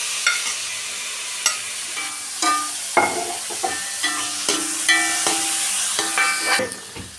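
Tomato fries in a pan for kothu porotta, a soft sizzle running underneath while a spatula scrapes and clacks against the pan in a steady rhythm of about a dozen strokes, close and clear.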